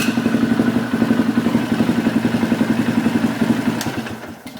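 A Polaris Sportsman 500 ATV engine, freshly rejetted at the carburetor, runs at a steady loping idle right after starting, close and loud with an even thumping pulse that eases slightly toward the end.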